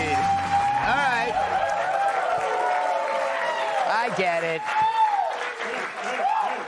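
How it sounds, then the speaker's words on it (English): A TV news talk show's studio audience claps and cheers steadily, with voices calling out and someone speaking briefly over the crowd noise. "You're just clapping because the AC is on."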